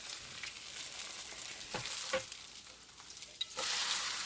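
Perilla leaf potato pancake pan-frying over medium heat, a steady hissing sizzle close up with a couple of brief spatula scrapes, no talk.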